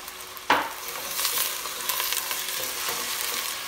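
Chopped onions and celery sizzling steadily in a hot pot, a sharp clank of a utensil at the start, then continuous frying hiss with occasional stirring scrapes, close up.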